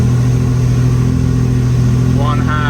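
A Lamborghini Murcielago V12 fitted with twin E46 M3 individual throttle bodies and a Haltech ECU idles near 820 RPM with a steady, smooth, loud drone, while someone talks over it.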